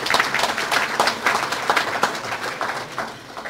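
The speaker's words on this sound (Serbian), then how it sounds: "Aplauz" A youth assembly breaks into applause after electing its vice presidents, many hands clapping in a lively, slightly uneven patter that fades a little toward the end, with no one speaking.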